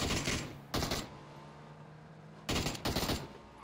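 Video game gunfire crackles in two sets of rapid automatic bursts, loud and close, separated by a quieter gap of low background hum.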